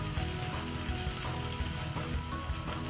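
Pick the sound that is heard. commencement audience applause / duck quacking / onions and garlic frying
onions and garlic frying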